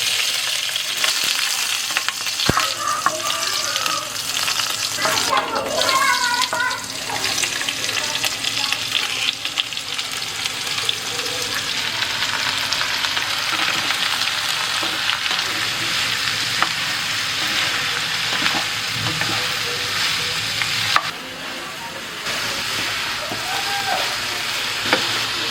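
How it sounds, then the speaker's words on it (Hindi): Cumin and chili tempering frying in mustard oil in a kadhai, a steady close sizzle and crackle that runs throughout with occasional stirring clinks and scrapes. "जीरा और मिर्चा का तड़का लगाएंगे।"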